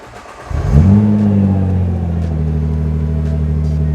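A Nissan GT-R engine cranks from cold and fires up with a loud roar, revs briefly, then settles into a deep, steady rumbling idle close by.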